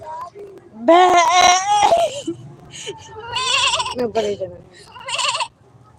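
A person imitates a goat, letting out several wavering, nasal bleats in close, loud bursts separated by short pauses.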